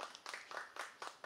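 A quiet round of audience clapping at a singing showcase, closing a young vocalist's performance; the patter comes in soft uneven bursts, heard from a distance, and no voices are present.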